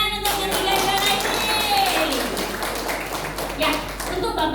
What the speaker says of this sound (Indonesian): Tepuk tangan untuk ketiga juara ini.